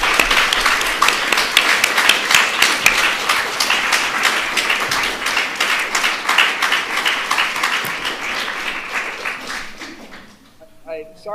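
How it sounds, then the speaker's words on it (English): An audience gives a round of applause, dense rhythmic clapping that stays strong for most of the stretch before tapering off near the end into quiet. "please, to give Grant a round of applause"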